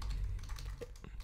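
Rapid clicking keystrokes on a computer keyboard during a coding session, a quick irregular run of close taps over a low background hum, with no talking.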